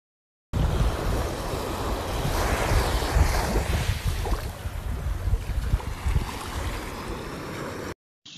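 Sea waves wash over a pebble beach, a loud, continuous roar of surf and churning stones with heavy wind buffeting the microphone, close and steady for several seconds with no voices.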